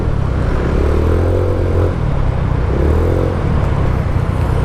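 A motorcycle engine fitted with a GPS alarm system idles steadily and loudly up close, its low drone continuous with a slight rising and falling whine.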